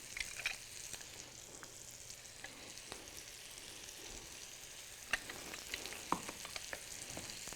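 Lobster tails sizzling in a pan, a soft steady frying hiss with occasional faint clicks and pops from the cooking.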